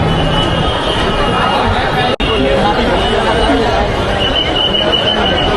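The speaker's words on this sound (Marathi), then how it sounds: "एका बाजूला अतिप्रचंड प्रमाणात ही गर्दी आहे" Dense crowd chatter and hubbub from a huge queue of devotees waiting for Lalbaugcha Raja darshan on a Mumbai footpath, a steady wall of overlapping voices with no single speaker standing out.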